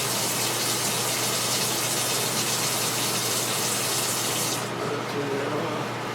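Hot water gushes steadily from a utility sink faucet in an indoor plumbing setup, a loud continuous broadband rush that eases slightly near the end.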